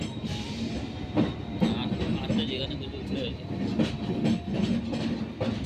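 A train rumbles along the rails at a station where passengers wait with blankets in the cold, with a steady rolling clatter and rhythmic wheel clacks at mid distance and people talking over it.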